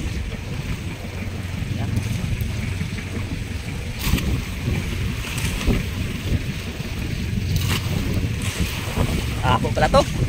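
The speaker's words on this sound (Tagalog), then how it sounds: "dahil malakas ang habagat" A strong southwest monsoon wind blows across a small fishing boat at sea off the Philippines, a constant roar buffeting the microphone, with water slapping against the hull and faint voices mixed in.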